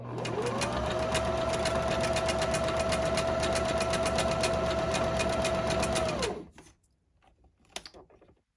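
A sewing machine runs steadily for about six seconds, stitching the seam of a boho-style tote bag made from slippery silk, then stops abruptly and leaves only faint handling noises.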